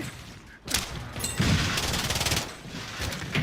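Gunfire rattles in Call of Duty Warzone as dense bursts of rapid automatic shots mixed with explosions and mechanical clatter, fairly close and steady over several seconds without speech.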